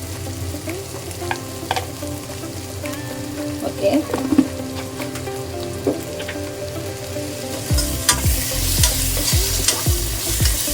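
Coriander powder fries in a pan as a spoon stirs it, with a steady soft sizzle and intermittent scraping strokes that grow louder and busier toward the end; a single word is spoken briefly.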